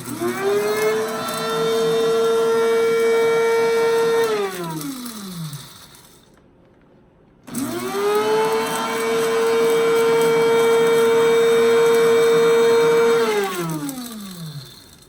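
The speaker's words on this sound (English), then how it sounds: "I still see an awful lot of big pieces there, and I really want it more of a powder, so I'm going to grind more." Electric grinder whirs loudly as it reduces material to powder, running in two steady bursts of about six seconds each, pitch rising on startup and falling as it winds down, with a short quiet gap between.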